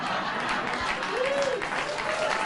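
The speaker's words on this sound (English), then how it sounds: "She always gets applause wherever she goes." Crowd applause on a television talk show, a dense continuous wash of clapping that stays loud throughout, with a brief tonal sound rising in the middle.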